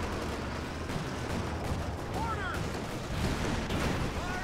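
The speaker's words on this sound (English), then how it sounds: "Anti-tank grenade, another bazooka shell." Bazooka shells and anti-tank grenades go off in Company of Heroes 2 amid a dense wash of battle noise, with scattered booms and whistling shells at moderate loudness.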